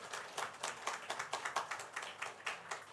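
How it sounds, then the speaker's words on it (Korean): Congregation applauding to welcome a missionary during a Sunday church service, a fairly quiet patter of clapping with a loose rhythmic pulse. "박수로 한번 환영하겠습니다."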